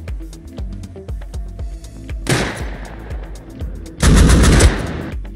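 Automatic gunfire in Rust Console Edition, a rapid train of sharp shots running through the clip, with two louder, denser bursts of heavy firing near the middle and end.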